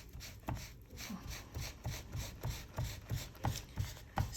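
A rag rubs and dabs over embossing powder to lift off ink, making a soft, rhythmic series of scuffing strokes at a steady pace, close and quiet, with no talking.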